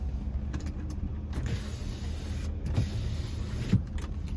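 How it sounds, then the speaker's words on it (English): The power rear sliding window of a 2017 Chevrolet Silverado 2500 HD LTZ Z71 4WD hums as its electric motor runs for several seconds, close and steady, with a couple of soft clunks near the end. "Rear sliding window."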